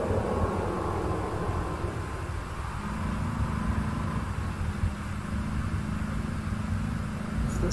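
A spaceship in Elite Dangerous throttling up after its landing gear retracts, a steady loud engine roar with a low rumble that swells slightly and holds throughout.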